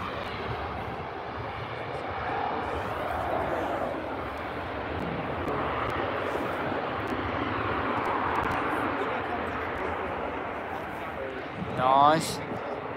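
Wide-body airliner jet engines at Manchester Airport, a continuous loud roar lasting throughout, with a brief sharp rising whine near the end; people talk nearby over the engine noise.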